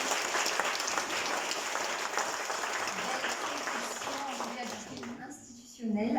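An audience applauds at the inauguration of AVA Technopark, a medtech hub in Mauritius. The clapping is dense and sustained and fades near the end, and an announcer's voice speaks over it.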